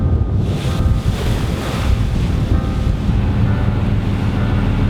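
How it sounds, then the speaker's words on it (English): Ocean swell surging at sea, heard from a kayak at sunset, with heavy continuous wind buffeting and the deep rumble of waves, loud and close throughout with no voices. "The ocean, the swell has picked up a little bit,"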